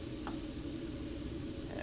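Chicken pieces frying in a pan on a stovetop, a constant low sizzle and hiss with a faint clink near the start, steady and close throughout.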